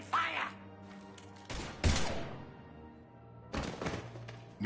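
Gunfire in the Mass Effect 3 video game: a few sharp bursts of shots separated by quieter stretches, with ambient game sound and a little voice in between.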